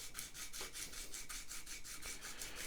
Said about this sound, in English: rubbing back and forth across the 180 grit sandpaper